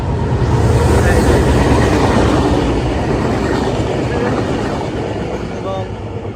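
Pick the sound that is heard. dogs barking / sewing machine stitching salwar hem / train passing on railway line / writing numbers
train passing on railway line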